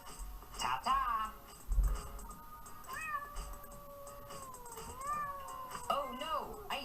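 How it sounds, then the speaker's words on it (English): A cat meows in distress, with several drawn-out, wavering cries and a longer caterwauling wail, fairly close but somewhat faint, with a soft low thumping in the background. "Oh no, I hear a cat in distress."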